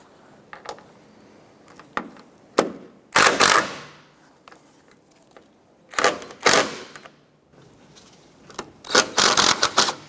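Bursts of an impact wrench or air ratchet spinning off the strut nut on a 2006-2013 Chevrolet Impala, coming in several loud, short rattling runs separated by quieter clicks and pauses, with no talking.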